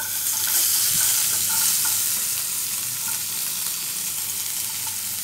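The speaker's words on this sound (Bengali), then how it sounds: "এবার আমি কড়াতে অ্যাড করে দিচ্ছি কুচিয়ে রাখা পেঁয়াজ।" Chopped onions fry in a hot wok used for a pomfret curry with mustard and poppy seed, giving a loud, continuous sizzle with soft stirring scrapes and no talking.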